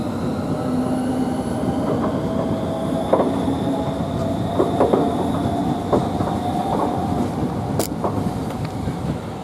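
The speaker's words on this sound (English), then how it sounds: "we've got this Southeastern high-speed train moving now, which is the 12:52 to Margate" A Southeastern Class 395 high-speed train moves through Ashford International station, a steady rolling rumble with clickety-clack wheel beats and faint squeals, fairly close and continuous with station ambience, no talking.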